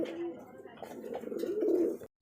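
A pigeon gives a soft, throaty coo, then a longer rolling coo, close by and fairly quiet.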